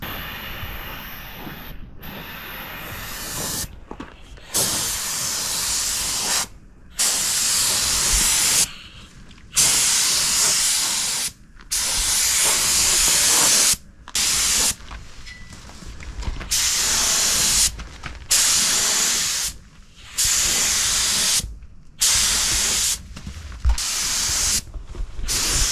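Rust-Oleum metallic paint sprayed on as a second coat, a steady loud hiss in repeated bursts of about one to two seconds, separated by short gaps of near silence, with no talking.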